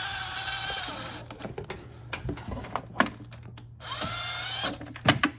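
Pneumatic or power tool gun driving valve cover bolts on a Honda HR-V, short feathered bursts of whirring and rattling at close range, stopping and starting several times.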